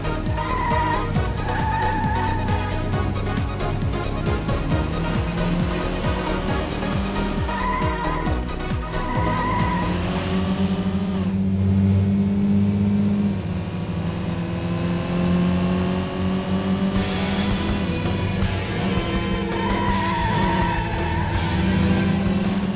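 Metropolis Street Racer on the Sega Dreamcast: a racing car engine whines and shifts up through the gears, with tire skids and squeals partway through. The sound is loud and continuous, with faint background music.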